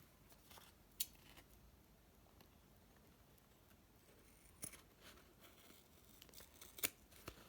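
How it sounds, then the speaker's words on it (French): Scissors cutting paper for a shabby vintage junk journal: a few faint, sharp snips spaced seconds apart over a very quiet room. "Je vais recouper tout de suite tant que j'y pense"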